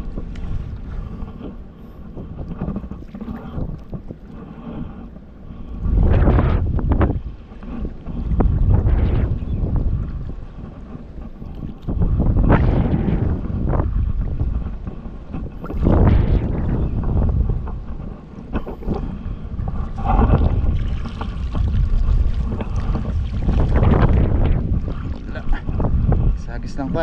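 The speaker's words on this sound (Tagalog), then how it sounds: "Malakas ang hangin." Strong wind buffeting a microphone on a small fishing boat at sea, heavy gusty roars rising and falling in repeated bursts over a constant background rush.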